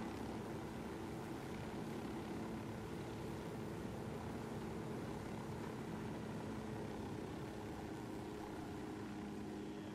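Helicopter in the video game Ghost Recon Wildlands drones steadily with a broad, churning rotor and engine roar, continuous and even throughout, fairly quiet with no talk over it.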